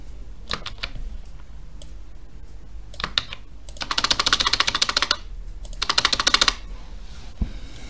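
Computer keyboard keys clatter close up as code is typed, with scattered single taps and two dense rapid bursts of typing, no voices.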